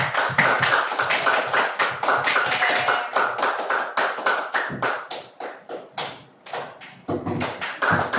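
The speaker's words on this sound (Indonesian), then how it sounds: "berikan tepukan untuk diri sendiri" A classroom group of pupils clap for themselves after a lesson, a burst of uneven, close hand claps that keeps going with a loose rhythm and briefly thins out before picking up again.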